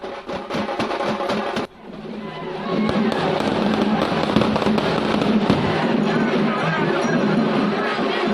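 Firecrackers bursting during a temple chariot procession, dense rapid crackling bangs that swell into a loud continuous barrage after a brief pause, mixed with crowd noise.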